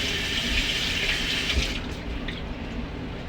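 Steady cold tap water running over chicken breasts into a sink, a continuous close splashing hiss with no talking.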